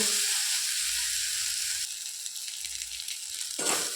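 Taro pieces stirred in a pan with salt, turmeric and chili powder give off a steady sizzle of frying, with faint scraping strokes underneath and a sharper scrape or clatter near the end.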